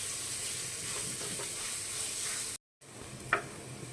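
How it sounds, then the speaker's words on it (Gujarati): Dry fruits roast in ghee in a pan with a steady broadband sizzle, broken by a brief gap, then resuming with a small clink of a utensil. "હવે આની અંદર પણ નાખશું આપણે 1 ચમચી જેટલું ઘી નાખી અને આને પણ આપણે થોડીક વાર એકદમ સરસ શેકી લઈશું"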